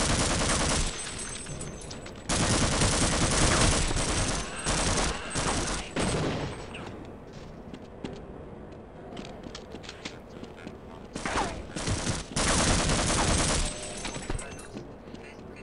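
Rapid bursts of gunfire from the video game Half-Life, dense and loud in stretches with quieter gaps between volleys, some footstep-like clatter in the lulls.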